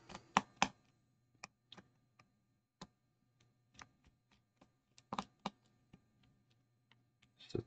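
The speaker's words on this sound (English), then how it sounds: "we'll go ahead and pop these four screws out" Four screws removed from a billet vape box mod, small sharp ticks and clicks of a screwdriver and parts in irregular bursts, close and quiet over near silence.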